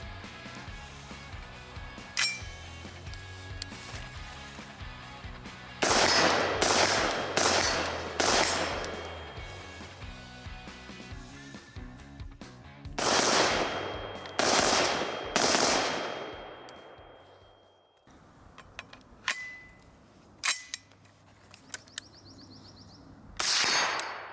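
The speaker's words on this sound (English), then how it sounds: "Let's hit the range and hear what the sound's like and shoot it" Dark Storm Industries Modern Fighting Rifle fired at an outdoor range with a Dead Air Nomad suppressor, several loud sharp reports in clusters and single shots, each with a ringing metallic tail and echo.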